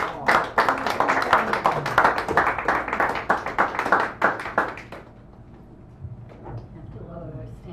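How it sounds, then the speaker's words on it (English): An audience at a poetry reading in a San Francisco café claps for several seconds, sharp close handclaps from a modest crowd, then the clapping stops and a few faint knocks and rustles follow. "Give Karen a nice round of applause."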